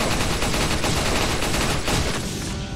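Rapid, sustained gunfire from the Resident Evil 4 video game, a dense continuous burst of shots that fills the whole moment loudly and then tapers slightly at the end, with no talking over it.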